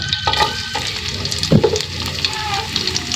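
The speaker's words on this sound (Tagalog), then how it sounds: "dahil mainit na ang ating kawali, pwede na natin ilagay ang sibuyas." Onions dropped into a hot kawali for adobong sitaw, sizzling and crackling up close with a brief louder hiss as they hit the oil, continuing steadily afterward without any voices.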